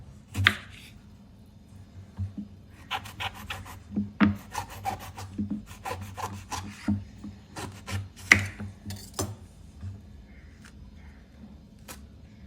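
A knife cuts through brinjal (eggplant) on a board in a home kitchen, with a run of close, crisp scraping and slicing strokes in an irregular rhythm and no talk.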